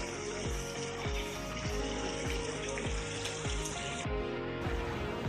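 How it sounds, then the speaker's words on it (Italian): A fountain in the old quarter of Vegueta, Gran Canaria, keeps up a steady outdoor rush of splashing water, close and continuous, with no talk over it. "C'è la fontana."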